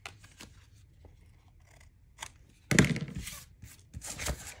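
Scissors trim the excess ends of a paper stripe glued onto a craft piece, giving a few close, crisp snips and scrapes after soft handling noises, with louder cutting bursts toward the end.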